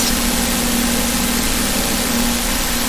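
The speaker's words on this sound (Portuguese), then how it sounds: "Queria muito estourar este motor que tanto faz barulho e atrapalha" A nearby motor runs noisily in a backyard, a loud, steady droning hum that holds constant throughout, with no voices.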